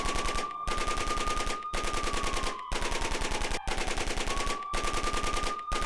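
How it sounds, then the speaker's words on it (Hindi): A Ukrainian BMP-2 infantry fighting vehicle fires in sustained loud bursts of rapid automatic cannon fire, each burst lasting about a second and separated by brief gaps, with a steady whine running underneath. "यूक्रेनी BMP-2 टैंक से ताबड़तोड़ फायरिंग।"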